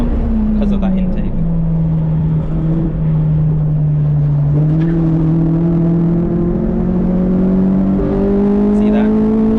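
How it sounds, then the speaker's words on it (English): A Honda Civic EP3 Type R engine drones loudly at Castle Combe circuit, its pitch sagging then climbing steadily as it pulls hard through a hot lap, with a voice talking over the engine noise. "You can literally hear VTEC kicking in and whatnot."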